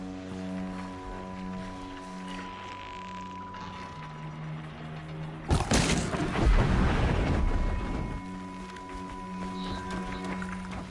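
A mechanical horse called a Strider gallops in Horizon Zero Dawn, a burst of heavy rhythmic hoofbeats with a clanking, metallic rush over a sustained musical score.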